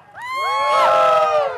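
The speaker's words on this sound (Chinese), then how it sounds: "再来是拍手加尖叫" An audience at a 2010 Christmas Eve concert at Tunghai University bursts into loud, overlapping high-pitched screams and cheers that swell quickly and hold for over a second, with any clapping buried beneath the shrieking crowd.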